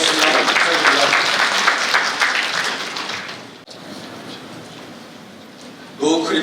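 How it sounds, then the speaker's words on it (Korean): Audience applause at the Software Wave Summit 2024 for a talk on AI and blockchain: a full burst of clapping that thins and fades over a few seconds before a speaker starts talking near the end. "박수 부탁드립니다."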